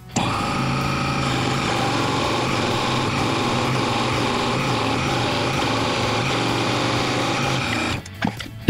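A small jigsaw saws through a wooden dowel in one steady, loud, high-pitched buzz that runs for about eight seconds and then stops abruptly, followed by a few light knocks.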